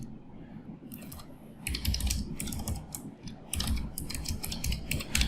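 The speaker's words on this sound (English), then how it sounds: "I'm just going to type in some text here" Typing on a computer keyboard: fast bursts of light clicking keystrokes, close and fairly quiet, with short pauses between runs of keys.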